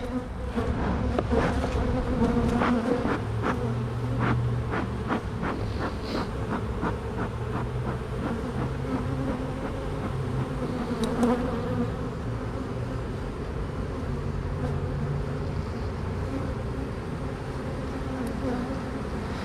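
Honey bees buzz steadily and close throughout a beehive inspection while the hive is checked for honey, nectar, pollen and brood, a dense continuous drone with no talking.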